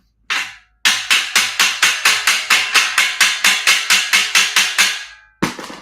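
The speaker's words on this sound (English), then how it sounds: "Now with it standing, I can kind of hammer it all the way in." A hammer strikes metal garage shelving parts in a steady run of about seventeen sharp, evenly spaced blows, loud and close, with a brief pause near the start and one more strike at the end.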